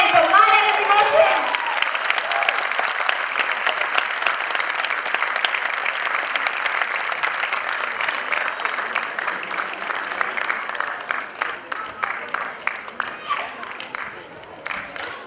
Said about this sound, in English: parents, put your hands together for Man and his emotions